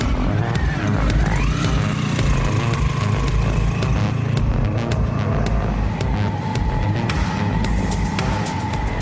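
A motorcycle with a sidecar drives steadily, its engine a continuous loud drone with a rising whine early on and a constant hum throughout, heard up close with no talking.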